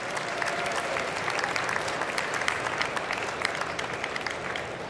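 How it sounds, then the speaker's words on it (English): Sustained audience applause fills the hall at the Slush 2023 startup pitch competition semifinals, a dense, steady wash of clapping with no voices on top. "Give one massive round of applause for these."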